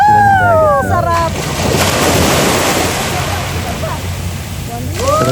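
Sea waves washing ashore at a Philippine beach where people swim, a loud steady surf roar with wind buffeting, while voices talk near the start and end.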